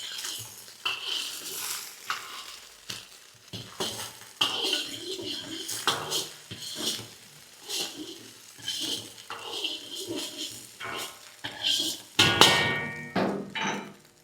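Egg and chicken stirred in a pan for restaurant-style chicken egg fried rice, with repeated sharp metal spatula scrapes and knocks against the pan over a faint sizzle, steady and close throughout.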